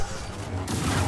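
A burst of explosions in the video game Star Wars Jedi Survivor, heard as a short, dense crackle of blasts rising in loudness over just over a second.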